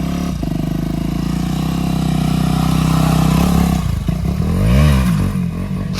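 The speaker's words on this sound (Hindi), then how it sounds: "अभी बाइक में आ चुके हैं विशाल भाई के बाइक में, तो अभी फुल पोटेंशियल में चलेंगे।" Motorcycle engine running steadily loud and close on an off-road group ride, with a rising and falling rev near the end and some mechanical clatter.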